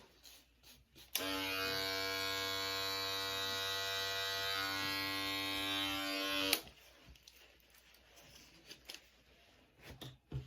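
Electric hair clippers buzz steadily for about five seconds during a beard trim, a loud, even motor drone that starts and stops abruptly, followed by quiet room noise and soft handling sounds.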